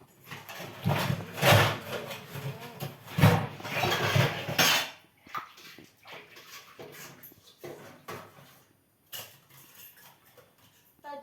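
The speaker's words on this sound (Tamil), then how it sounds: "நம்ம மாஸ்டர் இப்போ தான் பாத்திரம் தேடிட்டு இருக்கிறாங்க" Pots and pans clatter and scrape as someone rummages through them looking for a cooking vessel, loud irregular metallic knocks at first, then quieter scattered clinks and bumps.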